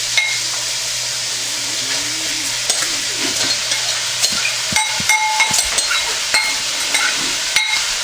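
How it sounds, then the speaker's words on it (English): Steady loud sizzling of venison browning in olive oil in a pot, with occasional scraping and stirring clicks over the constant hiss. "I have a couple of tablespoons of olive oil in the pot here, and I'm just going to brown the meat"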